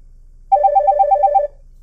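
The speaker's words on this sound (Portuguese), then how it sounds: "tá tocando o telefone" A ringtone from the multimedia system of a 2017 Toyota SW4 SRX 2.8 CVT plays as a quick, evenly paced run of about ten bright electronic beeps lasting around a second, clear and alone over faint background hum.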